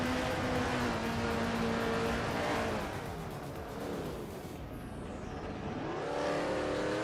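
A 1976 Formula One race car engine in a racing video game, a loud sustained high-revving whine that holds steady, dips as the car lifts off, then climbs again as it accelerates, with no voices.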